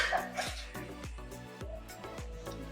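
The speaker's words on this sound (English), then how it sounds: "Oh, toy poodle." A toy poodle barks in a quick series of sharp yips, about five or six, fairly close, over a low steady hum of background noise.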